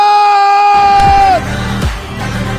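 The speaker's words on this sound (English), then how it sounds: "Ladies and gentlemen, please give the biggest, the loudest applause for Aishwarya Rathod." Loud crowd cheering and applause at a film success press event, a steady sustained tone at first, then a roaring mass of voices and clapping carrying on to the end.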